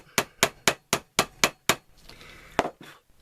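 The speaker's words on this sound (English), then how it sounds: "you can come in here with a ball peen and you can dome those a little bit" A ball peen hammer domes copper rivets on a Kydex belt loop in seven quick, evenly spaced metallic strikes, then a short pause and two more taps, each sharp and close with a brief ringing decay.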